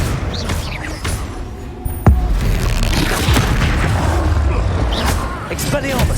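A Confringo blasting spell in Hogwarts Legacy goes off with a sharp booming blast amid a busy combat mix of crackles, impacts and rumbling effects, with a voice shouting spell names over it.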